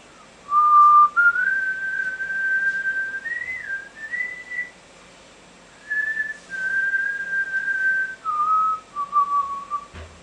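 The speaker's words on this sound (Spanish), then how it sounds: "venía un negro silbando, tarareando una melodía que hacía más o menos así" A person whistles a slow, sustained melody alone, the tune later used for Amazing Grace, with long held notes broken by short pauses, clear and close against a quiet background.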